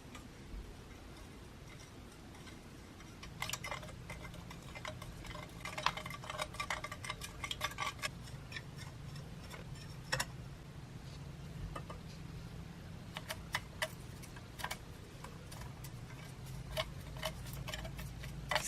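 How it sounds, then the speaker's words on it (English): A spoon stirring urea mixtures in Petri dishes, faint scattered light ticks and clinks of metal against plastic that come in irregular clusters over a quiet room hum. "Stir each mixture with the spoon until the grains disappear."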